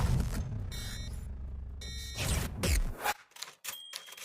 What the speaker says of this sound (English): would rather be typing like a good old-fashioned secretary